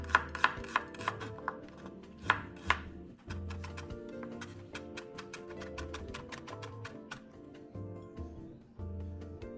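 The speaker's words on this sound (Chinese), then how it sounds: "25克小紅蔥，剁碎。" Knife chopping small red shallots on a cutting board, a few sharp separate strikes at first, then fast steady rhythmic mincing taps, close and clear with no talking.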